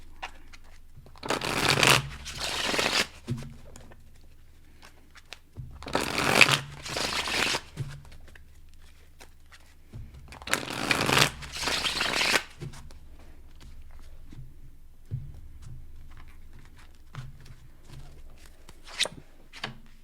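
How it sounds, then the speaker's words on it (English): A deck of tarot cards being shuffled by hand in three loud, riffling bursts of a second or two each, separated by quieter pauses with faint card handling and taps, close up with no talking. "I promise you I shuffled these up"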